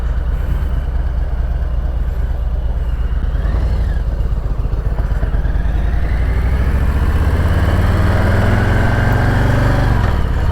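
Harley-Davidson motorcycle fitted with a Two Brothers 2-in-1 exhaust pipe, its engine rumbling steadily and loud up close, pitch rising as it revs and pulls away on a hot, humid day.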